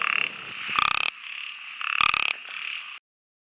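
Frogs croak during the Konkan monsoon in a close, loud chorus of rasping calls, with two sharp louder bursts standing out before the calling stops abruptly.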